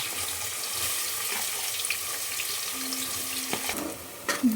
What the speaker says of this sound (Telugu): ఆయిల్ హీట్ అయ్యాక ఆనియన్స్ వేసుకోవాలి.